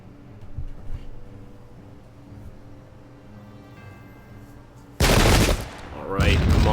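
In the Pike and Shot strategy video game, a musket volley erupts as a sudden loud crackling burst of massed gunfire, then a second burst follows. It cuts through a quieter battlefield background.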